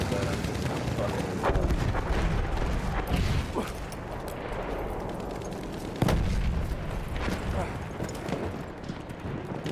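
Artillery gun fire and explosions in a video game, a steady rumbling barrage with repeated sharp blasts and a strong hit around the middle, under a player's talk.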